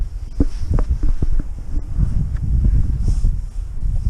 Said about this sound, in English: Again, the wind's picked up just at the wrong time.